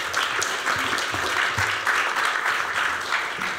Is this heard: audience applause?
yes